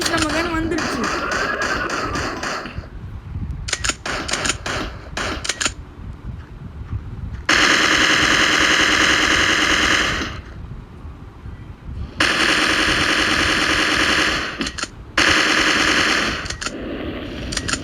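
Rapid bursts of machine gun fire from the mobile shooter game Mini Militia, loud and close, coming in long sustained volleys separated by short pauses, with a voice talking in between.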